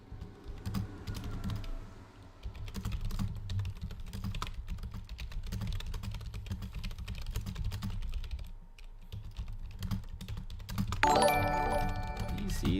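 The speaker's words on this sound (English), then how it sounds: "One of these days I'll get better at typing around a microphone." Computer keyboard typing close to a microphone, a steady run of rapid soft clicks and clacks throughout, with a brief bright jingle near the end.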